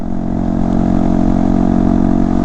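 Honda Grom motorcycle fitted with an AR aftermarket exhaust, its engine running steadily and loud up close with a deep, even burble and no talk.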